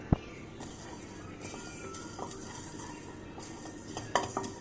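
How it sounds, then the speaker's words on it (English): Spices dry roasting in a pan for kadai paneer, a faint low sizzle under several sharp metallic clinks and scrapes of a stirring utensil against the pan, quiet overall. "Let's dry roast our spices."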